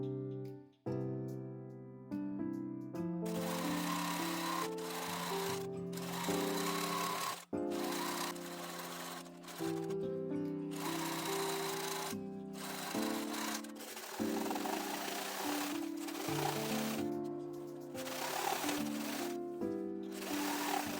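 Sewing machine stitching a patchwork pullover's underarm-to-side seam at a 1 cm allowance, running in long steady bursts with brief pauses between runs, close and fairly loud.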